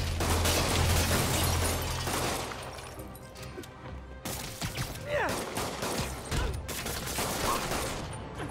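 Gunfire bursts in the Marvel's Spider-Man video game, a dense clatter of shots over a busy game mix with crashes, thinning into scattered pops and impacts.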